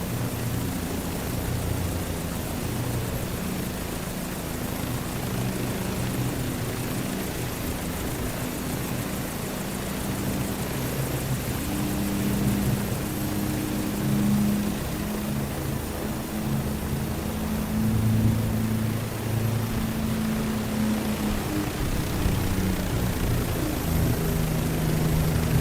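A propeller airplane flies aerobatics outdoors, its engine droning steadily for the whole stretch with rising and falling tones as it maneuvers, moderately loud and fairly distant, with no talking.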